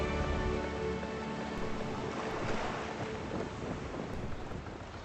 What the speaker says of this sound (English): Dawnbreaker creaks at the cross of the waves.